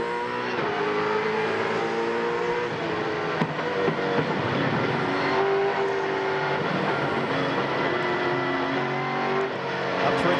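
Loud, continuous V8 Supercar engine heard on board during a 2001 Shell Championship race at Winton Raceway, droning and shifting in pitch as it revs through the gears.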